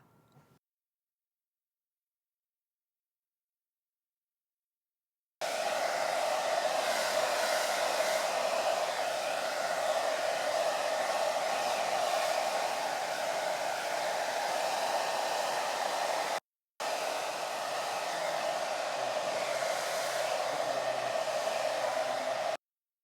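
A hair dryer blows a steady, loud whooshing hum while drying hair at a salon haircut, running continuously for about eleven seconds, cutting out briefly, then resuming, with no talking over it.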